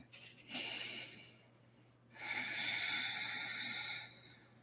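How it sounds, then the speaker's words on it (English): During a guided meditation, a person draws a slow, deep, audible breath in and lets it out, then takes a second longer breath, close to the microphone over a faint steady hum. "Just take a breath."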